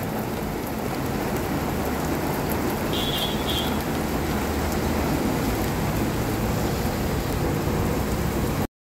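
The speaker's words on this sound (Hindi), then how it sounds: "ये देखो गाड़ी के ऊपर आवाज़ आ रही है, अब छम छम बरसने लग गया, बारिश बहुत तेज़ हो चुकी है" Heavy monsoon rain in Islamabad drums steadily and densely on a car roof, a constant loud hiss with no pauses.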